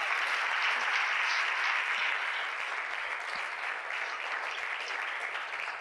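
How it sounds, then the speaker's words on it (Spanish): A church congregation applauds in praise of God, a steady, dense wash of clapping from many hands that holds evenly, easing off slightly toward the end, with no voices over it. "Un aplauso al Señor"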